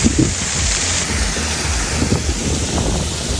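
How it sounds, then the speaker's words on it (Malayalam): A waterfall at High City in Abha roars as a steady, broad rush of falling water, loud and continuous with wind buffeting the microphone throughout. "വെള്ളം വീഴുന്ന ഒരു രക്ഷ എന്തൊരു സൗണ്ട്"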